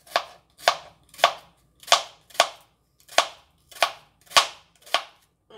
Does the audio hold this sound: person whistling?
no